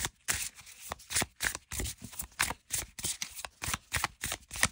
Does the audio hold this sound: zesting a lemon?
no